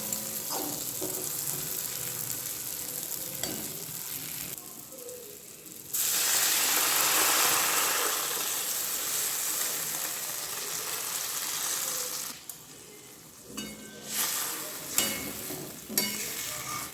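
Bengali spice paste (masala) with chillies frying in oil that has separated at the edges, a steady close sizzle with scraping stir noises, swelling louder midway then dropping back with a few clicks.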